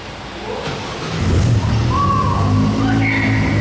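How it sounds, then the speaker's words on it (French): A Maserati MCXtrema race car engine turns over and catches on a street, then settles into a steady, rumbling idle with a rising whine layered on top. "Il a réussi à la démarrer, ça y est."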